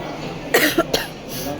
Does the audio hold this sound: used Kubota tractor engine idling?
no